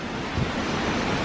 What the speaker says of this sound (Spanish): Aquí baja un pequeño río, arroyo, no sé cómo le digan.